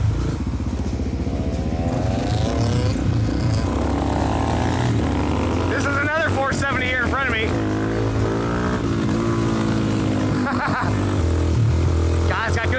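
A Honda CRF300L (XR301) supermoto with a flat slide carburetor on a track day, its engine loud and close, revving up and down in rising and falling sweeps, with a person talking over it throughout.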